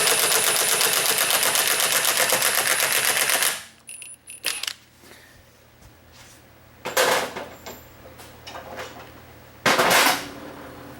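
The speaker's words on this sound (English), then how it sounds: "There's a lower setting on this impact wrench. So what I'm going to do is I'm just going to put this lug nut back on." An impact wrench on a lower setting hammers a lug nut back on in a fast, loud rattling burst of about three seconds, followed by softer clanks and two shorter bursts of handling noise nearby.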